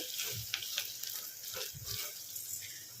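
Okra pieces cooking in a covered pan with turmeric, a soft muffled sizzle and low bubbling with a few faint clinks, quiet and close, with faint talk in the background.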